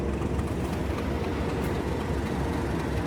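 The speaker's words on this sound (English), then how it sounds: "The noise is the railhead treatment train there." A railhead treatment train running on a railway line, a loud, steady rumbling roar of rolling wheels and engine noise, continuous and close throughout.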